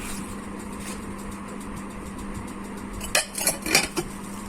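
Glass bowls are handled at home, with a faint background hum giving way to a short cluster of bright clinks and knocks near the end, close and fairly loud against quiet surroundings.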